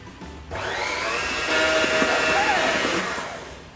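An electric hand mixer whirs steadily while its beaters whip cooked sweet potatoes in a bowl, loud and close, its motor pitch rising and falling slightly before winding down.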